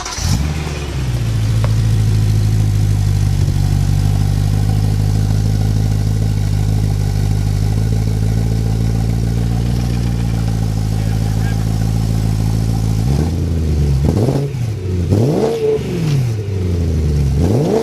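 A car engine cranks and catches, then idles with a steady deep drone before a series of sharp revs rise and fall near the end.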